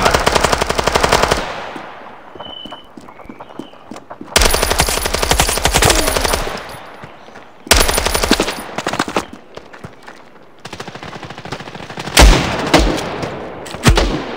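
Rapid automatic gunfire in the mobile shooter Standoff 2 comes in long, loud, dense bursts separated by brief pauses, with a faint ringing tone in one gap and heavier booming shots near the end.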